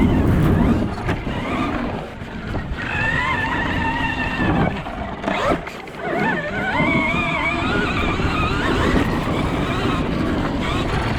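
An electric motocross bike from the world championship ridden hard on the throttle, with rising and falling whining motor tones and surging revs, close and loud.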